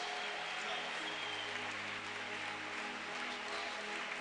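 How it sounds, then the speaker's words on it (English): A church congregation at a 77 Days of Glory revival service gives sustained, even applause, which blends into a continuous rain-like hiss with no breaks. "Clap for them."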